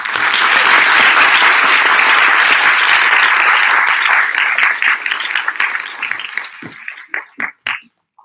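A session audience breaks into a round of applause, loud and dense at first, then thinning over the last few seconds into a handful of scattered claps before stopping.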